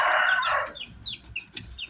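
Chickens and a rooster at a Thai backyard coop on a cool morning, with a loud burst of clucking and crowing up front followed by several short, sharp chirping calls spaced through the rest.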